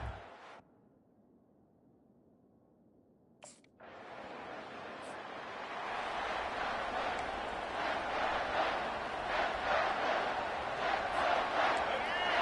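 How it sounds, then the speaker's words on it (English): A large college football stadium crowd in a video game roars and cheers, swelling after a short quiet stretch and holding loud and continuous, with a voice speaking at the start. "this crowd is fired up. Listen to this noise here."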